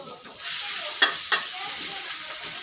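Pork and Chinese kale stir-fry in a hot pan, a steady soft sizzle throughout with two sharp clanks of a utensil against the pan.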